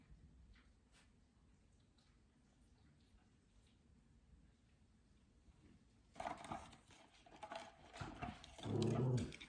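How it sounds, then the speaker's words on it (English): Puppies whimper and growl faintly in the background, then grow louder and more restless near the end with scuffling, short, muffled vocal bursts. "Excuse the puppies."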